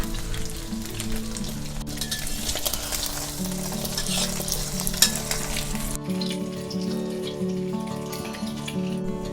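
Eggs fry in hot oil in a pan, a steady close crackling sizzle with dense spattering that runs throughout and eases slightly toward the end, with no voices.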